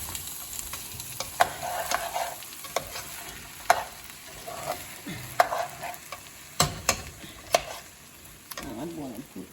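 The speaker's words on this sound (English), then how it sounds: "I fry the rice over here in the sofrito with the meat." Rice fried and stirred in sofrito with meat for arroz con gandules apastelado, giving a steady sizzle broken by repeated sharp scrapes and knocks of a spoon against the pot, close by, with a brief voice near the end.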